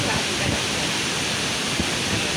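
Bhivtas waterfall in Surgana forest, a constant broadband rush of falling water, loud and close, with faint voices underneath.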